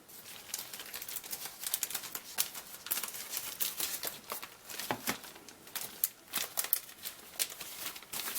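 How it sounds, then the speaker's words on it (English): Scissors snipping open a plastic wrap holding decals from an AMT 1/25 scale 1963 Impala model car kit, with close crinkling and sharp irregular clicks of plastic and blades. "we've even got decals inside of a plastic wrap here. Let me go ahead and cut that open real quick"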